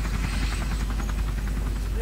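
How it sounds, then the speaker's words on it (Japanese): A helicopter in the video game Resident Evil 4 hovers with a steady, rapid rotor chop and buzzing drone throughout, fairly loud and close. "ヘリア、ヘリいるんかい。"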